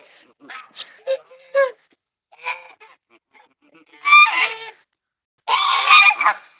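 Geese honk loudly at close range on a rainy February day, with a first scattered burst of short calls followed by two dense stretches of overlapping, raucous honking separated by brief pauses.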